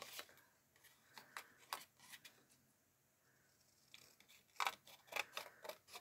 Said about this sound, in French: Alors, je fais avec le ciseau.